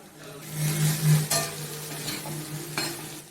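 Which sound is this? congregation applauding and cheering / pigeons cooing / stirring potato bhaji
stirring potato bhaji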